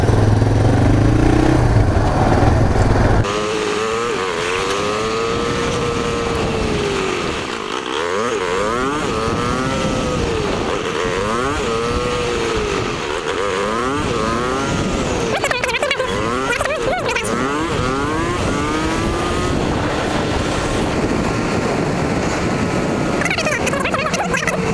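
A motorcycle with a freshly adjusted carburetor rides along a street, its engine steady and close with rising and falling revs as it accelerates and eases off, after a brief louder burst at the start.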